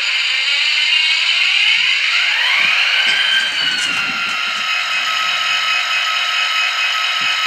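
An HO scale SD45-2 model locomotive with an MRC sound decoder powers up, giving off steady bright tones that rise and shift pitch midway, then settle into a sustained electronic hum. No voices are heard.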